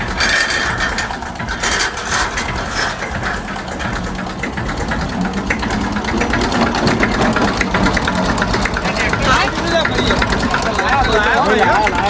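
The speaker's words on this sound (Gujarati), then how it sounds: "અને આ ભાઈ ટ્રેક્ટર લાવી દીધું." A tractor engine runs with a steady rumbling chug throughout, while people talk over it.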